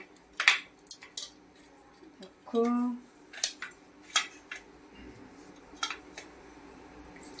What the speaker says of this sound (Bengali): পাউরুটির এই পিস সাইডের এইগুলো আমি কেটে নিচ্ছি